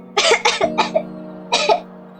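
A person coughs several times in quick bursts, a cluster of three or four then a pause and one more, close and clear over a low steady hum.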